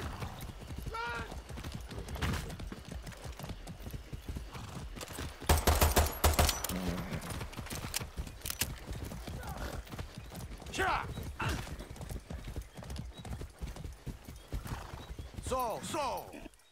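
In the Far Cry 6 video game, a horse's hooves clip-clop in a fast, steady gallop, broken by several sharp neighs and bursts of automatic gunfire, while voices shout over the action.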